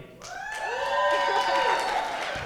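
A youth ministry audience cheers and whoops for a contestant during a group game, a rising wave of voices swelling loud for a couple of seconds and then fading.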